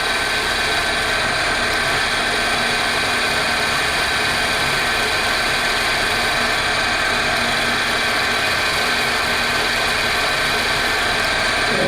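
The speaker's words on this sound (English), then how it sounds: "Okay, then we can start drilling really." A steady, continuous mechanical whine of a 2mm drill running, loud and unbroken throughout with a dense buzzing tone and no voices.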